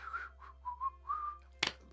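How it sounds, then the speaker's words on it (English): A person whistling a short tune alone, a few clear sustained notes with brief gaps, fairly close and soft, ending with a sharp breathy burst. "That whistle wasn't very good."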